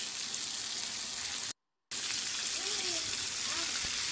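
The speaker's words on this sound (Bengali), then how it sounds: "এখন আমি মাছের গায়ে গায়ে তেলগুলো যেন লাগে তার জন্য কড়াইটা ভালো করে উল্টি পাল্টি দিচ্ছি" Punra fish frying in hot oil in a kadai as the pan is tilted and shaken, making a steady loud sizzle with a short break and a few faint clinks.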